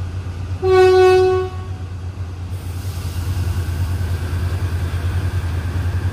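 Passenger train on the Thai Death Railway heard from aboard, a steady low rumble of the carriages throughout, with a loud train horn blast near the start lasting about a second.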